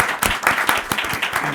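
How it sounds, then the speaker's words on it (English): Audience applause for a panel of speakers at an integrative medicine workshop, a dense steady patter of many hands clapping at close range throughout, with no talking. "If you join me in the round of applause for our brilliant panelists and their contributions."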